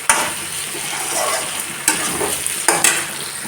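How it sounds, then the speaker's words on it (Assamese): Duck meat fries in oil in a pan, giving a close, steady crackling sizzle broken by a few sharp stirring scrapes and clatters. "মাংসখিনি ভজা লাহেকৈ মাংসৰ পৰা তেল ওলাইছে"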